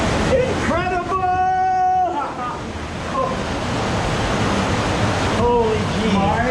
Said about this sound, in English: Oh, there's another waterfall up ahead.